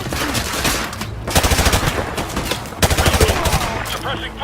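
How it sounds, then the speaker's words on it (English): Suppressing machine-gun fire in a Call of Duty Modern Warfare shipboard battle: loud, rapid automatic bursts in two main volleys, with scattered shots and battle noise between them. "Suppressing fire."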